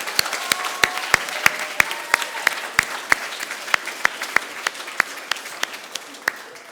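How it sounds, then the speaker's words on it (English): A school audience at Urmston Junior School applauds a child reader with sharp, distinct claps in a brisk, fairly regular rhythm, close and clear over a light room background. "let's have a big round of applause for our Oompa Loompa reader"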